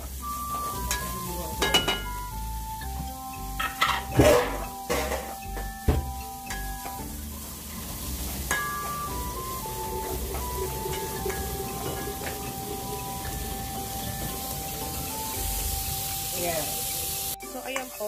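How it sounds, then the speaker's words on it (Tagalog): Garlic, onion and sliced hotdog sautéing in a pan for a creamy vegetable sopas, a steady close sizzle with clinks and scrapes of stirring and occasional talk over it. "nagisa ko na po yung bawang, sibuyas, bawang, tapos nilagay ko yung hotdog"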